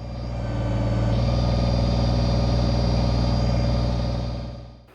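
A Kubota BX25D compact tractor with backhoe runs steadily while being repositioned during digging work, its diesel engine a loud, even drone that holds then fades near the end.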